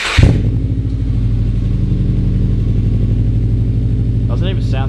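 Cold start of a Subaru Liberty engine: a sharp crank and catch at the start, then a loud, steady rumbling idle close by, with a brief voice near the end.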